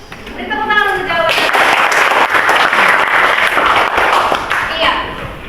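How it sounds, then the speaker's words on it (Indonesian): Classroom applause for a student's answer in a Year 11 class at a senior high school, a loud burst of many hands clapping for several seconds after a short spoken phrase, fading at the end. "Beri tepuk tangan untuk jawab."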